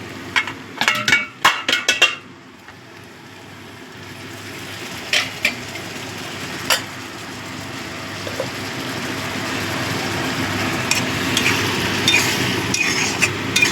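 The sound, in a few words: stirring fish curry in a pan after adding hot water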